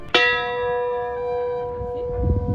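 A ship's bell aboard a historic ship, struck once sharply and left ringing with a long, slowly fading metallic tone, loud and close, with faint background noise toward the end.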